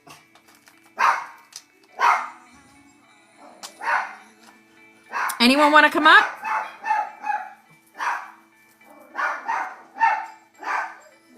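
A dog barks repeatedly indoors, close and loud, with a cluster of rapid barks mid-way, while someone talks over and between the barks.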